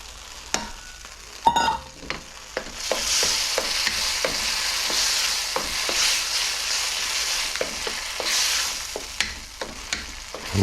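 Eggs and tomatoes stir-fry in a wok with a steady sizzle, broken by sharp scraping and clanking strokes of a spatula against the metal at irregular intervals; no one speaks.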